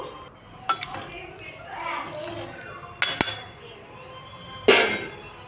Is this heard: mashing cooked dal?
yes